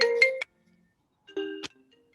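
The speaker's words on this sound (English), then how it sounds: "I'm sorry. I thought I'd turned my phone off." A mobile phone ringtone goes off during a council meeting: two short bursts of bright electronic melody separated by a pause, clear and fairly close in a quiet room.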